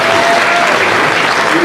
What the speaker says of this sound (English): give a round of applause for the band